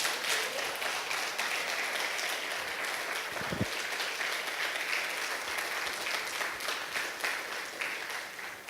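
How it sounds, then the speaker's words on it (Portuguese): A church congregation applauds during a Portuguese-language sermon, producing sustained, even clapping from a large crowd that holds steady for several seconds, with a brief thump partway through. "Aplauda Jesus"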